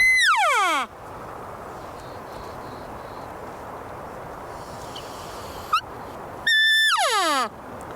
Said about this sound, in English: It's the sound of a cow calling that always gets a bull's attention.